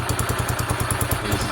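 A Sinnis SC125 125cc motorcycle idles close by with a steady, rapid thumping beat and light mechanical clatter, nobody talking.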